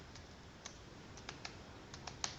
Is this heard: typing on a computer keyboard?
yes